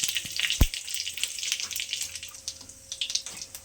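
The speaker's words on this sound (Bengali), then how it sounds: "কড়াইয়ে একটু জিরে দিলাম, শুকনো লঙ্কা দিলাম ফোড়নে" Cumin seeds and dried chillies crackle in hot oil in a wok, a close, bright spatter opening with a sharp knock, then settling into a busy sizzle that thins toward the end.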